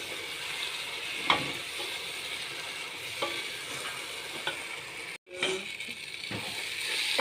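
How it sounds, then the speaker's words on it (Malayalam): Tomatoes and masala sizzle in a pan for chicken biryani, a steady hiss broken by several sharp clicks and scrapes of stirring, close by with no talk. "ഇത് നല്ലോണം ഒന്ന് ഫ്രൈ ആവണം കേട്ടോ. നല്ല ഫ്രൈ ആയാലാണ് ആ ബിരിയാണിക്ക് അതിൻ്റെ ടേസ്റ്റ് കിട്ടുള്ളൂ."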